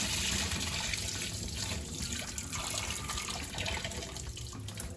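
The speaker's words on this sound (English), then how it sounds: "pour that water off" Steady running water pours off soaked saltfish, splashing into a sink, continuous and fairly close, with no voices over it.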